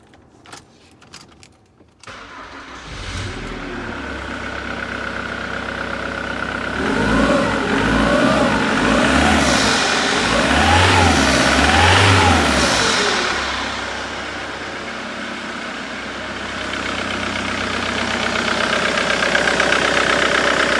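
A Jaguar X-Type cranks briefly and fires into life, then rises and falls through a couple of revs before settling into a steady idle, close and loud with no talking.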